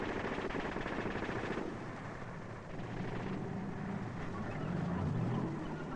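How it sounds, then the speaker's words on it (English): Gunfire from tanks and infantry in combined-arms street fighting among houses, heard as a dense, continuous crackle of rapid shots and rumbling over a muffled, faint old recording. "covered by their own fire as well as by the tank fire"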